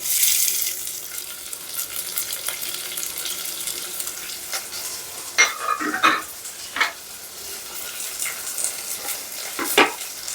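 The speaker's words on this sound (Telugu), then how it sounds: "ఇప్పుడు ఆనియన్స్ వేసుద్దాం" Chopped onions tossed into hot oil with curry leaves in a pan for a chana dal cabbage curry, sizzling steadily with a few sharp stirring scrapes and clinks breaking through near the end.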